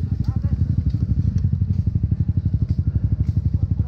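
A trail motorcycle idles close by after a fall, its engine chugging in a loud, fast, lumpy pulse, with rattling clatter over the top.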